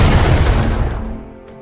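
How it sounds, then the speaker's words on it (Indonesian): A war-film mortar blast: one loud, deep boom that rolls out and fades over about a second, heard alone. "Mereka diperintahkan untuk menembakkan mortar ke arah lokasi target."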